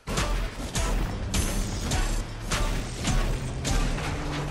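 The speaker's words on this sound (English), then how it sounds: "Every time you hit something, it starts making that little tune from that one song." Marshy Smasher pickaxe in Fortnite striking objects in a steady series of loud, close hits, each carrying a short musical chime phrase, with no talking.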